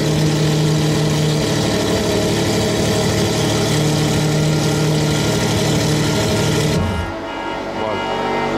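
A supercar engine idles at the Monaco Yacht Show, a loud steady low rumble with a constant hum that dips and settles near the end, with voices mixed in.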